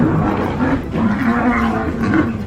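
Two lionesses in a tree-top confrontation with a leopard, giving deep, rumbling roars and growls in several close, loud bursts over a short span.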